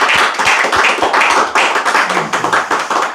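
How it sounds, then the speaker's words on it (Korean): A small audience at a Korean election candidate event in Iksan claims hands in an energetic rhythm to welcome a candidate, with sharp, close, fairly steady claps and no talk. "익산을 지역의 문용회 후보 박수로 환영합니다."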